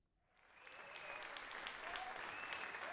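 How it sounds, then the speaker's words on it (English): Cheering crowd applause piped into the Macbeth-style video game Deadly Rehearsal, swelling in from quiet to a steady, sustained roar of clapping and cheers with whistle-like tones rising above it. "Who piped in the cheering noises?"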